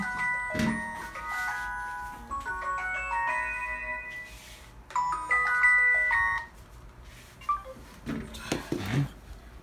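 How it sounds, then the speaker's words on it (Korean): A phone ringtone plays a bright electronic melody in repeated bursts, with short gaps between phrases, close and clear. "영상만 찍으면 전화가 오고"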